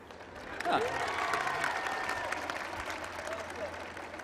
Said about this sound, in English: could you give me just a little bit of a round of applause